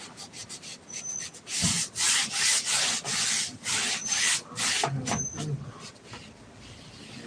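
Hard, brisk rubbing of a brush or cloth across an oil painting canvas, a series of loud scratchy strokes in an uneven rhythm, close up with no talking.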